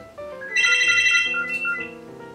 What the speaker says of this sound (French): c'est quand tu filmes que le téléphone sonne